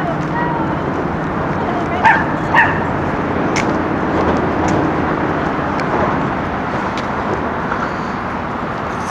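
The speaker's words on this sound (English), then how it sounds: "Scary dog." A dog barks twice in quick succession outdoors on a riverside walk, then gives a few fainter yips over constant background noise from traffic or the open air.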